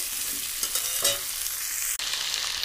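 Mixed vegetables with cabbage and carrot sautéing in a pan, a loud continuous sizzle with scraping stir strokes and a sharp clack of the spatula near the end.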